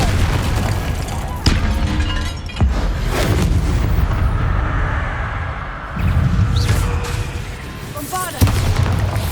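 Fiery blast spells erupt in Hogwarts Legacy, with several heavy booms at irregular intervals over a rumbling low bed, each with a sharp attack and short decay, loud and close amid game ambience.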